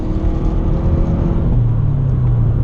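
A 2013 Subaru WRX cruises at 70 mph with a steady, loud engine drone and road rumble heard from inside the cabin, continuous with no pauses.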